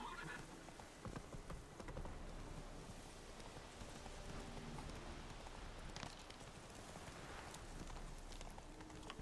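Roach, a horse in the Witcher 3 video game, gallops with rapid, quiet clip-clop hoofbeats over a soft, rain-like wash of ambient noise, with a brief whinny near the start.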